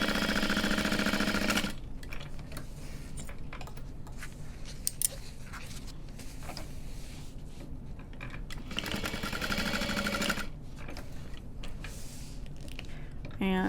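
A sewing machine top-stitches a handbag in quick bursts of close, rapid mechanical stitching separated by brief pauses, with soft handling noises between runs.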